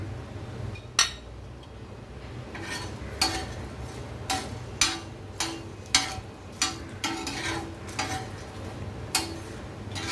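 Dry spices, coriander and cumin among them, toasted in a pan with no oil for a Maharashtrian masala paste, giving a series of light clinks and scraping stirs that recur every half second or so over a low steady background hum.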